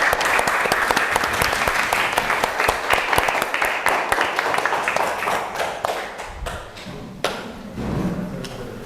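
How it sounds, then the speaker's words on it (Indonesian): A classroom audience applauding group 5, loud sustained clapping from many hands nearby that fades slightly toward the end, with faint voices underneath. "Beri tepuk tangan untuk kelompok 5."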